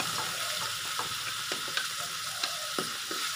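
Ginger slices and crushed garlic with skin frying in a pan with dried chillies, a steady soft sizzle broken by light scraping stirs every half second or so.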